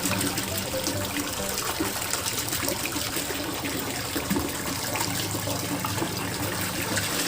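A low-wattage ARMADA submersible pump sprays water into a garden pond, giving a steady, dense rush and splash that holds evenly and loudly throughout with no talking.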